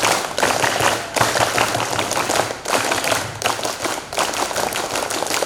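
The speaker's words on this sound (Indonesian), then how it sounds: "Tepuk pramuka 2 kali." A group performs the Indonesian scout clap (tepuk pramuka) twice in a row, loud rhythmic patterned clapping from many hands close by, with short pauses between phrases.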